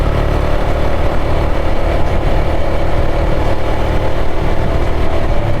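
Yezdi Scrambler 69 motorcycle ridden at full throttle on a highway, a loud steady engine drone blended with heavy wind rush, continuous and unbroken throughout.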